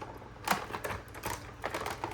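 A die-cutting machine feeds a die through paper, giving a near, busy run of clicking, clattering mechanical rattles with a few sharper knocks, and no voices.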